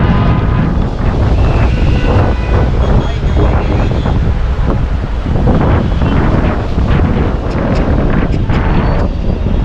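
Strong sea wind at Marine Drive, Mumbai, buffeting the microphone in a loud, continuous roar with steady rumbling throughout.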